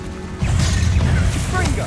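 A Confringo blast spell bursts in the Hogwarts Legacy video game, a loud booming impact with crackling debris that starts abruptly and rumbles on with game sounds layered over it.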